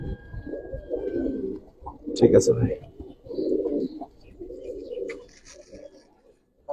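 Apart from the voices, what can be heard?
Giribaz pigeons cooing in a loft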